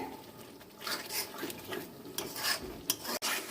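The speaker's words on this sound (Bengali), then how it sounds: "এইভাবে আস্তে আস্তে আমি কষিয়ে নেব কিছুক্ষণ।" Chicken curry masala being stir-fried in a pan, with a steady scraping, rubbing rasp of the spoon through the thick spice paste, close and moderately loud, a few sharper scrapes near the end.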